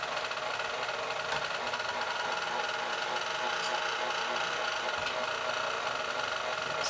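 KitchenAid stand mixer meat grinder with a coarse plate, grinding chunks of pork for sweet Italian sausage, making a steady rasping whir with faint scraping as meat is pushed down the feed tube.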